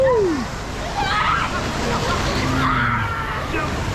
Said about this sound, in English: wave pool's pretty good. Decent sized waves, and it's just deep enough in here as well.